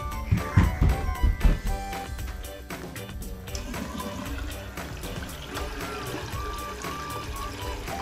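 Tap water runs at a home sink for handwashing and gargling, a loud, continuous pouring and splashing stream with brief louder bursts at the start, while voices talk over it.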